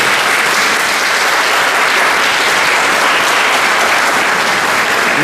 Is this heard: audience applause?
yes